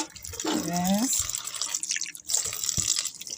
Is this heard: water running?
yes